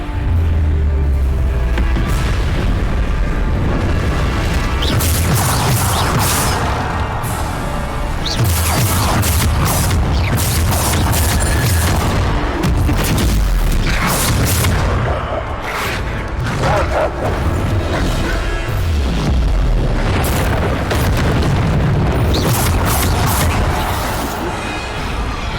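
Bombarda blasting spells and other spell effects from Hogwarts Legacy burst repeatedly in a chaotic fight, with booming explosions and crashes piling up loud and close over game music.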